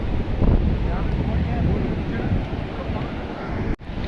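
Steady roar of sea waves at Clifton beach, Karachi, with wind buffeting the microphone throughout.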